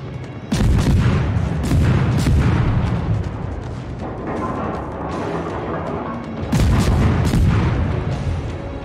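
Heavy naval gunfire in the World of Warships video game: deep booming salvos with rumbling tails, a loud volley near the start, a lighter one around the middle and another loud salvo late, with no talking.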